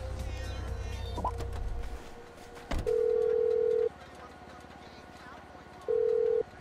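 Phone call placed in Grand Theft Auto 5: a sharp click, then two long steady ringback tones separated by a pause, each clear and fairly loud over faint game ambience.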